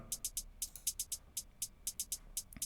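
Dry, unprocessed hi-hat sample played on its own, a quick run of short crisp ticks in an uneven groove, close and clean with no talking.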